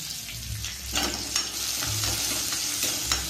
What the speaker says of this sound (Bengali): কিশমিশটা ভেজে নিচ্ছি।